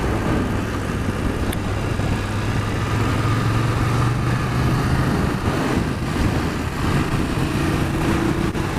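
A BMW F750GS inline-twin motorcycle engine drones steadily during a road test ride, a loud continuous hum with wind rush and shifting pitch, and no talk.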